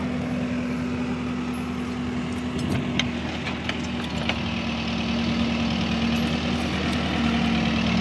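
A tractor with a trolley idles nearby, giving a steady low engine drone with a constant hum. It runs unbroken throughout, and faint clinks and knocks surface over it.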